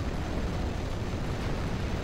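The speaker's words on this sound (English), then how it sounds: "There we go, fuel explosion." A fuel explosion in the World War II strategy game Steel Division: Normandy 44 gives a loud, dense, sustained rumbling roar that fills the moment without any pause.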